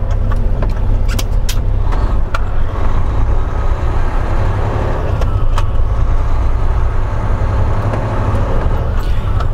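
A Mack truck engine runs steadily at about 1200 RPM, a loud, continuous diesel rumble heard close up from inside the cab, with faint rattles and clicks on top and no speech.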